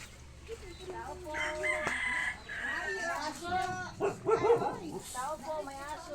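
Dogs bark amid crowing and clucking roosters and chickens in a rural yard, the calls fairly close and overlapping, with people talking throughout.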